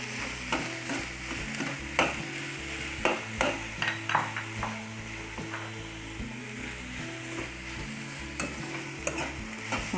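Soya chunks sizzling and frying in a pan while being stirred for soya kebabs. A steady hiss runs under repeated sharp scrapes and taps of the utensil against the pan, with no talking.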